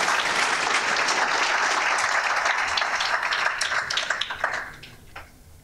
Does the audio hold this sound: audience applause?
yes